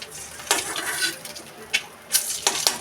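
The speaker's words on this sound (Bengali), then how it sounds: "তেল গরম হয়ে গেছে, ডিমগুলো দিয়ে দিলাম।" Eggs frying in hot oil while being stirred, a steady sizzle broken by several sharp scrapes and clinks of a utensil against the pan, close and fairly loud with no talking.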